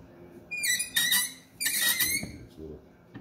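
A bench vise squeaks sharply while a toolbox drawer part is clamped and bent, giving three or four high, shrill, close-up squeals separated by short pauses.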